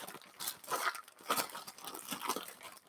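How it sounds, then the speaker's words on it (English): A crinkly plastic bag of mini marshmallows being worked open by hand, with several bursts of sharp crackling and tearing, close and fairly quiet, no talking. "If I can open the bag."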